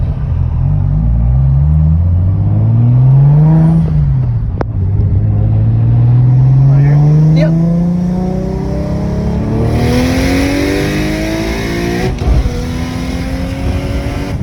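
A single-turbo BMW 335i engine revs hard and loud in a second-gear pull, its pitch climbing steadily, dropping briefly at a gear shift, then rising again as the car accelerates.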